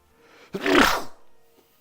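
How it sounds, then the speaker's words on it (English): A single close, sharp sneeze bursts out after a quiet moment, followed by a brief soft exhale. "That was a good sneeze."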